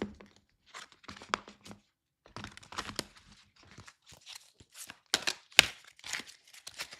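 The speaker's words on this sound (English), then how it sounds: "So when I'm shuffling my angel cards" Irregular papery riffling and soft slaps of a deck of angel cards being shuffled up close, in uneven bursts with short pauses.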